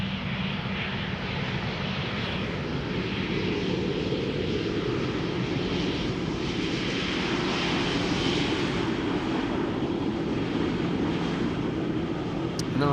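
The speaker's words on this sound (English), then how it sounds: "Lufthansa A320 up next," A Lufthansa A320 airliner arriving from Munich at Schiphol Airport gives a steady, broad jet roar that holds at an even level for the whole stretch, with no voices.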